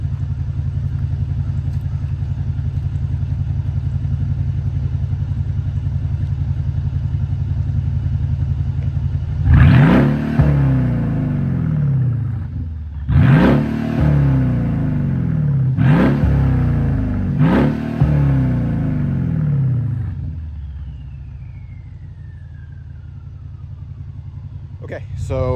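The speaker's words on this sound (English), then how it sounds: "the valves are open right now. I haven't changed any settings or anything like that. Transmission's in sport" A Mercedes SL550 with its exhaust valves open and the transmission in sport mode, its engine idling and then revved four times in short bursts, each rise and fall loud and close.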